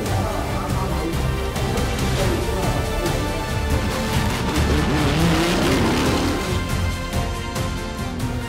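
A WRT race car on a circuit drives with a continuous loud engine roar that rises and falls through gear changes, with a hint of tire squeal midway.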